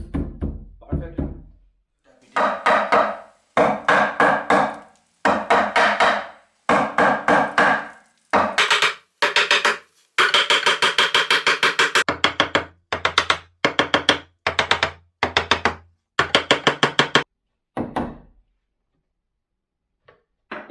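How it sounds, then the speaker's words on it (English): Hammer tapping a wooden frame into a drywall opening for a wall insert, sharp woody knocks in quick bursts of several blows separated by short pauses, close and loud. "We are going to tap it in with a hammer and make sure it fits perfectly."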